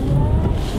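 A Tesla P100D electric car accelerating briefly and loudly up close, a smooth whirring rush with no exhaust rumble.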